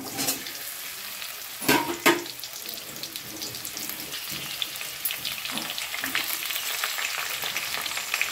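Jujubes (kul) slide into hot spiced oil for a pickle, bringing a steady, close sizzle with a couple of sharp splashy bursts early on and continuous frying hiss afterward.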